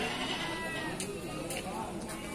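Ewe sheep bleat faintly a few times at the Cilongok animal market in Banyumas, amid the busy murmur of the crowd and voices nearby.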